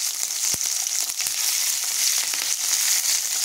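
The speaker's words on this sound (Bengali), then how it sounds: "তারপর এখানে কেটে রাখা ক্যাপসিকামগুলো দিয়ে আমি সুন্দর করে এগুলোকে ভেজে নেব।" Chopped capsicum sizzles steadily in hot oil in a wok, a dense continuous frying hiss with a few small pops and crackles, close and fairly loud throughout.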